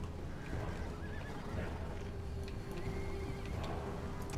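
Horses whinny and hooves clip-clop while fording a river in Total War: Attila, over a steady background din, with a few sharp clanks scattered throughout.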